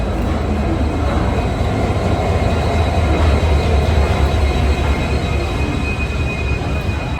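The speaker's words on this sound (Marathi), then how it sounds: "चलो फायनली आली आपली ट्रेन" A train arriving at a station rumbles loudly and close, continuously, a heavy steady roar of wheels and engine with no voices.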